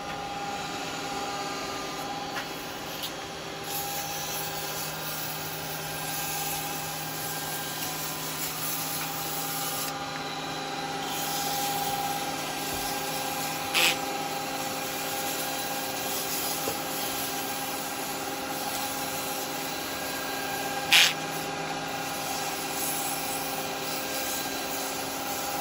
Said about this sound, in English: Right, sand that a little bit.